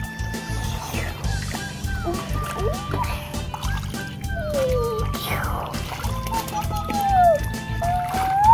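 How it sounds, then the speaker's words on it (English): A young girl swims on her own without a life vest, and her splashes and sloshing water carry on steadily nearby. Other voices talk over the water throughout. "now she is swimming on her own"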